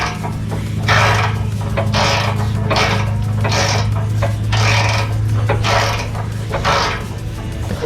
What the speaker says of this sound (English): we're gonna take our 15mm socket, we're gonna put on the bolt, and then we're just gonna unscrew the bolt to loosen the clamp